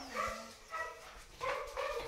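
Dogs bark outdoors near papaya trees, giving about four short, spaced yips and barks at moderate distance, fairly faint.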